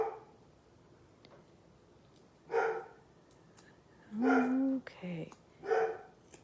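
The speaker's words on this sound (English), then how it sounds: "my dogs are barking" Several dogs barking indoors in a crafting room, coming in separate bursts of a few barks each, mid-distance, with a person speaking briefly nearby.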